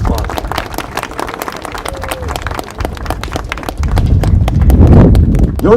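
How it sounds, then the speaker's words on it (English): An audience at the Penn Electric Racing REV11 unveiling starts with scattered sharp claps that swell into denser, louder applause partway through. "let's give a round of applause"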